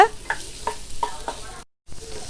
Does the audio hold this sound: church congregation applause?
no